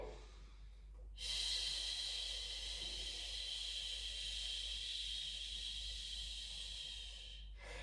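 A long, steady breath drawn in during a seated shoulder stretch, a close, soft airy hiss lasting several seconds before trailing off.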